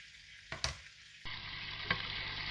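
Salmon fillet sizzles in a frying pan as a steady hiss, with a couple of brief louder pops and stirring scrapes partway through; no one speaks.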